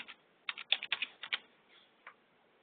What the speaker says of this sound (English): I can type in protect